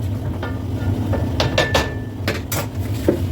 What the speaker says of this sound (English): Go ahead and stir this again